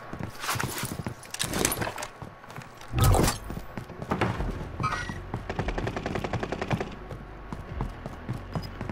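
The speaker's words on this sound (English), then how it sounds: "They're getting shot by somebody else." Gunfire in Call of Duty Warzone: sharp bursts of automatic and single shots, some near and loud, others distant, clustered irregularly with one heavy blast partway through.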